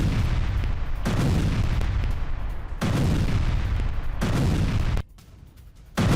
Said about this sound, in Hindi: हूती का इजराइल पर मिसाइल अटैक दिखाइए जरा